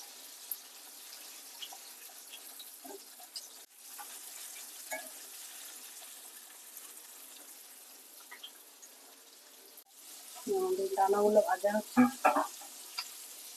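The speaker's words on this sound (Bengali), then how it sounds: "মাংসগুলো ম্যারিনেট করে রাখা ছিল আমাদের তেল গরম হয়ে গেছে মাংসগুলো দিয়ে দেবো" Marinated chicken wings dropped into hot oil give a burst of loud sizzling and crackling near the end, after a long stretch of quiet kitchen background.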